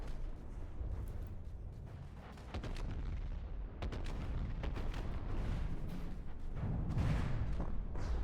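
Repeated cannon shells firing in a combat video game, a dense run of booming blasts and sharp reports layered over a continuous rumbling battle din, loud throughout.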